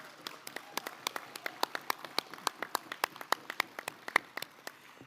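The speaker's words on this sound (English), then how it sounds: "So we can start with a good clap and then the reset," Participants at the Métis Nation Legislative Assembly clap in a steady run of sharp, crisp claps from a small group, close and clear with no talking.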